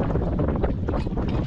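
Strong wind roars and buffets continuously, a dense low rumble across the whole moment, loud and close with no clear voices.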